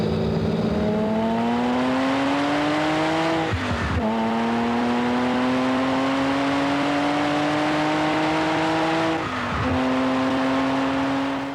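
A Lamborghini sports car, driven hard by test driver Valentino Balboni, roars loudly and close. The engine pitch climbs steadily and breaks twice with quick gear shifts before rising again.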